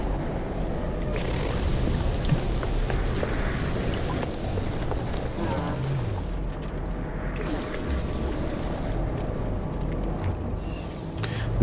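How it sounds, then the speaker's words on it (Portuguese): Heavy rainstorm in the survival game No Man's Sky, a steady dense wash of rain with low rumbling and occasional louder gusty surges, continuous and fairly loud throughout. "Tem que esperar a tempestade passar."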